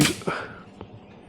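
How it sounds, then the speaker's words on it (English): An arrow looses from a bow with a sharp snap, quickly followed by fainter knocks as arrows smack against each other, all over in about a second. "I heard arrows smack each other though."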